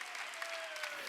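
Congregation clapping hands together during a Korean church worship service, a brief burst of dense, steady applause at moderate distance.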